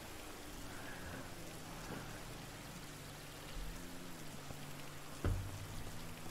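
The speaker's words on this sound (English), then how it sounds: "Enjoy the rain" Steady rain hisses in a constant wash in Grand Theft Auto V, fairly faint, with a few soft low thumps underneath.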